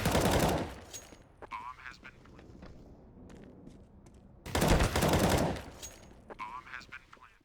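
Counter-Strike rifle fire, a short burst followed a few seconds later by a longer burst of about five rapid, loud shots, with sparse clicks and quieter game sounds between them.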